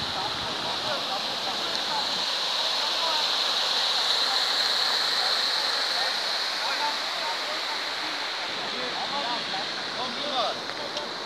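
Floodwater rushes through flooded village homesteads and over a road in the Luncoiu de Jos area of Romania, a loud, steady broadband roar of flowing water.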